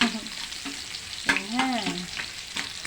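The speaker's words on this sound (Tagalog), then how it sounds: "Ilagay na po natin ang bawang." Garlic sizzles and pops in a hot frying pan beside pork, a soft steady crackle with a few stirring scrapes, close and fairly quiet.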